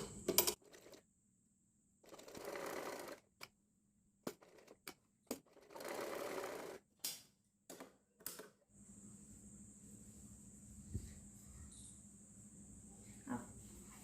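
Sewing machine stitching the sides of girls' shorts, several short whirring runs of stitching separated by pauses and clicks, ending with a steady hum and a faint high whine.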